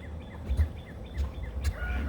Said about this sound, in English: little Miss Hen's sitting on top supervising it all